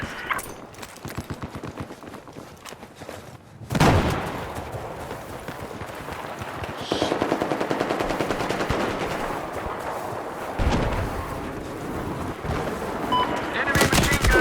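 Enemy machine gun fire in a video game comes in repeated rapid bursts, loud and close, rattling over a continuous background of battle noise.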